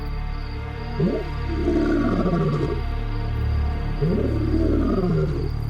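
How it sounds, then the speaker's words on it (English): A male lion at Sabi Sand gives deep, grunting roars in two separate bouts, each a rising then falling series of throaty calls over a low background hum. "Often we'd hear him roaring with his very distinct call"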